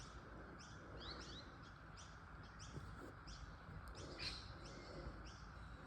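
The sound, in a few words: birds calling outside, cockatoos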